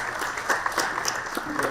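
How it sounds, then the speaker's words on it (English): A conference audience claps in a brief burst of steady, dense applause, close and moderately loud, with no voices over it. "So a big round of applause for yourselves."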